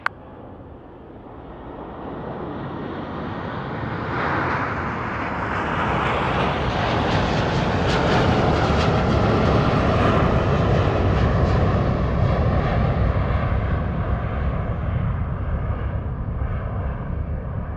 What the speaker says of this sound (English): the crew went around at the last second